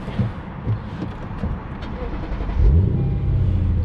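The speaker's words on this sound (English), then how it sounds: "Love that low grumble of a V8." A 2017 Lexus RC F V8 cranks and fires up, a starter whir followed by a deep grumbling idle that settles in close by, after a few quiet thumps and some faint background talk.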